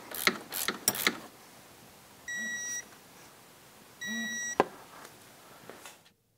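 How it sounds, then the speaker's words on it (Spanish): A torque wrench ratchets on the ball joint bolts of a 2007 Yamaha YFM700 Grizzly ATV: a few quick clicks, two sustained electronic beeps, then a sharp final click, close and with no talk. "sacar el torquímetro y apretarlos a 32 libras"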